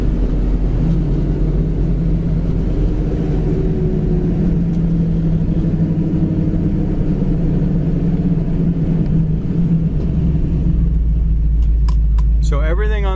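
A dark red 1967 Chevy Camaro engine pulls away in low and works up through the gears, a loud, close, continuous low rumble that holds steady, with muffled speech beneath it and a brief rising whine near the end.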